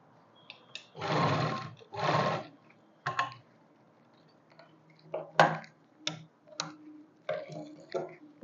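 A sewing machine stitches the belt onto a saree petticoat in short bursts of whirring, two longer runs followed by several quick ones, with small clicks and handling noises in between.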